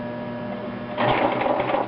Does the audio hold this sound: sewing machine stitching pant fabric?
yes